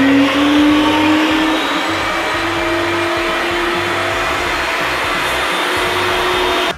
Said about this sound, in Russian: Все, можем начинать крутить фарш.